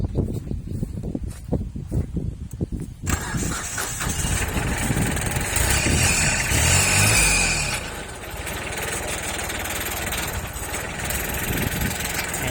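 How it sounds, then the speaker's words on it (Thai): A tractor's engine is cranked and catches, rapid starter chugs giving way to a loud, rattling idle that surges briefly and then settles into a steady, close-up run. "ลองสตาร์ทเครื่องยนต์ดูนะครับ"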